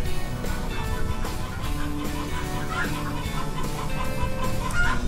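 Several chickens cluck steadily and overlapping, with an occasional louder squawk, forming a busy continuous flock chatter.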